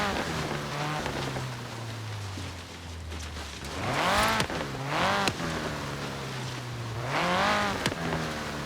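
A Holden FX ute, the first Holden ute, drives in Forza Horizon 3 with a steady engine drone and rising revs on shifts and accelerations. It sounds close and fairly loud, with no talking.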